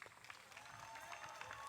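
Steady applause from an audience following a disc golf match at a match play championship, faint and continuous throughout, with no talk over it.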